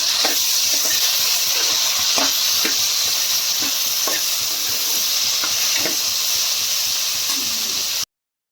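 Tomatoes fry in a pan for Punjabi-style baingan bharta with a steady, close sizzling hiss. Small pops and stirring clicks sound through it, then it cuts off abruptly near the end.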